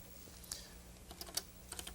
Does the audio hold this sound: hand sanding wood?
no